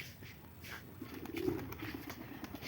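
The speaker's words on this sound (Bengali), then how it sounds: "তো ভালো ভালো পায়রা, সব বাচ্চা পায়রা, সব পরকাটা আছে, সব সেলের মাল।" Young pigeons in a flock kept for sale give one soft, faint coo near the middle over a quiet, hissy background.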